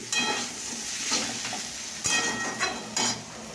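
Potatoes frying in a pan with a little chili: a steady close sizzle with a few louder bursts as the pieces are stirred and scraped, moderately quiet and without talk.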